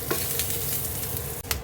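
Cut potatoes, carrot and bell pepper fry in hot oil in a pan for chicken afritada, a dense, steady crackling sizzle close up, broken by a few brief scraping stirs.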